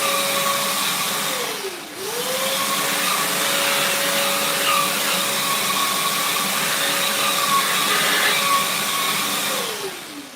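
A vacuum cleaner runs with a high, steady whine from its nozzle, the pitch dipping sharply twice as airflow changes, loud and close throughout.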